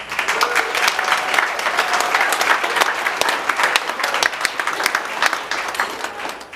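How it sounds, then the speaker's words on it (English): Wedding reception guests applaud loudly and continuously, many sharp hand claps close by forming a sustained, crowded ovation. "Round of applause, please."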